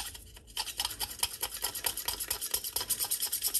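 A spatula scrapes dried dirt off a brayer roller in quick, rhythmic rasping strokes, close and fairly quiet, with no talk.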